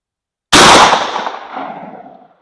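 A single 12 gauge shotgun slug fired at an outdoor range: one sharp, loud blast after a beat of silence, its broad roar decaying over about two seconds.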